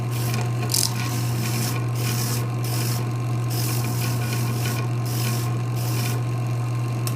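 A hand file shapes a hidden boot comfort seat in repeated back-and-forth rasping strokes, each scrape distinct and fairly close, over a constant low electrical hum.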